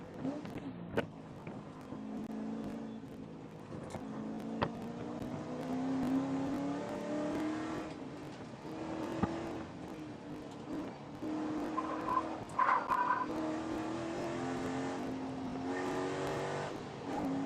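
Spec Corvette race cars roar around a circuit, engines droning and shifting pitch as they accelerate and pass, with sharp mechanical clicks and surges over a constant background of track noise.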